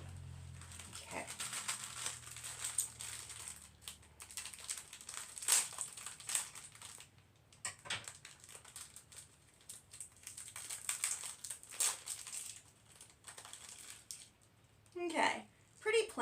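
Crinkly plastic biscuit packaging being handled and torn open, with scattered crackles and snips, fairly quiet and close, a few sharper rustles near the end.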